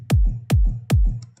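Three dry, clean kick drum hits at a steady tempo, punchy and thumpy with short decays and no distortion, heard alone.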